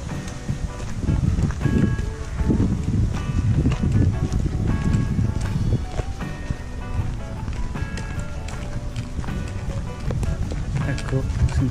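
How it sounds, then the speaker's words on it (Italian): Wind gusting through riverside reeds on a walking trail, a steady loud rush and rustle with gear or footsteps clattering throughout. "Sentite suonare perché si è alzato il vento"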